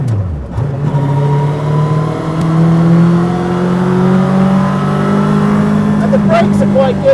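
A modified three-wheeled tuk tuk being driven hard on a track, its small engine droning steadily and rising in pitch as it accelerates, close and continuous, with people talking over it.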